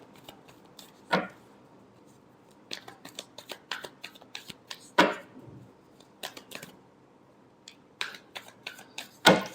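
Tarot cards being shuffled by hand: soft papery riffles and sharp flicks come in a few bursts with quiet clicks between, close and fairly faint, with no speech.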